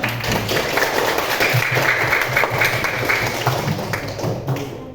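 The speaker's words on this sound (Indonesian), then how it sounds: "sebelumnya tepuk tangan dulu semuanya" Classroom of students clapping their hands together, a dense steady patter of many claps close by that runs throughout and fades slightly at the end.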